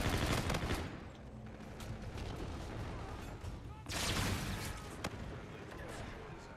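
Gunfire from the shooter game Call of Duty: Infinite Warfare rattles in dense, overlapping bursts throughout, loud and busy, with a brighter surge of shots partway through and a sharp crack near the end.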